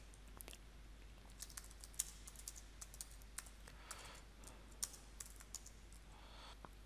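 Keys clatter on a computer keyboard as details are entered, a quiet, uneven run of light clicks and taps with a few sharper strikes, close and alone over a low steady hum.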